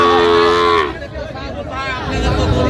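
A Sahiwal calf of about seven months moos loudly and close by at a cattle market in Chattogram. One long, drawn-out bellow tapers into a lower, rougher moo.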